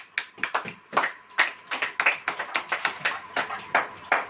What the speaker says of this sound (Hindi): अगर आप आनंदित हैं तो ताली बजाइए, और अगर आपका मन दुखी है तो भी ताली बजाइए